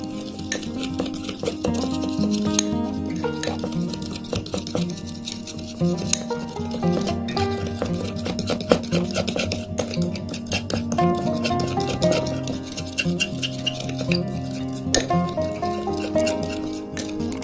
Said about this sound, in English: Now mix well all the ingredients.